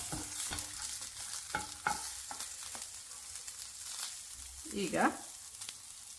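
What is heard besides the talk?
green chillies frying in pan for fenugreek chutney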